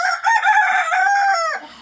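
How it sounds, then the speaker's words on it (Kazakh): A rooster crows once, loud and close, a long strained cock-a-doodle-doo that trails off at the end. "Міне әтешім түрі"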